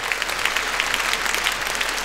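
Audience applause after a song at a 2016 concert evening, a steady dense patter of many hands clapping that carries on evenly throughout, with no voices over it.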